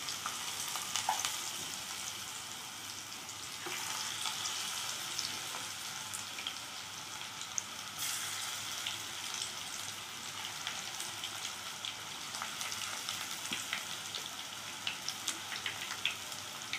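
Raw banana pakoda frying in hot oil, a steady close crackling sizzle with scattered pops and occasional stirring scrapes throughout, no talk.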